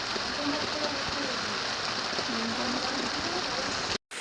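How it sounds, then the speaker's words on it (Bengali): Steady rain falls outside on a late afternoon, a dense, even hiss that holds at a constant level throughout and drops out abruptly for a moment near the end. "এখন বৃষ্টি হচ্ছে বাইরে"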